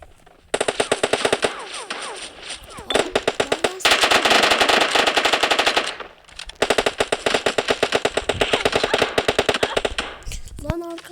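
Rapid automatic gunfire rings out in a shooter video game, long sustained bursts of loud, evenly spaced shots broken by a few brief pauses, with faint sounds of other guns behind them.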